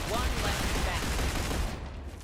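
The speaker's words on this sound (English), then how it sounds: "I just mag dumped." A weapon in the video game StarRupture fires a full magazine in one rapid, continuous burst of shots. It sounds dense and loud and runs nearly the whole time before easing off at the end.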